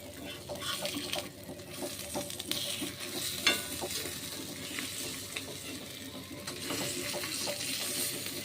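Fish fillets fry in a pan of hot oil, giving a steady close sizzle and crackle with soft stirring and scraping of the pieces being turned, continuous and unbroken by talk.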